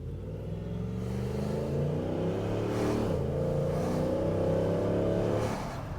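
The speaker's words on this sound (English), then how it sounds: "now we're going to do a windows open pull, and this is what your co-driver is going to hear." A 4x4 fitted with a snorkel intake accelerates hard with the windows open, its loud engine drone rising steadily in pitch, briefly dipping around a gear change, then climbing again before easing off.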